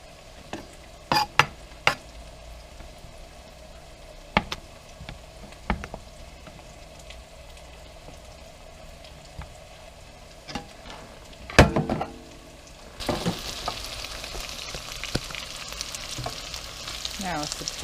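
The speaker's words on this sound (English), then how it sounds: "It will all start to fall apart when you start stirring it in the hot oil and potatoes." Corned beef hash of chopped brisket and potatoes frying in hot oil, a steady low sizzle broken by sharp scraping clicks of a utensil stirring the pan, the sizzle growing brighter and louder near the end.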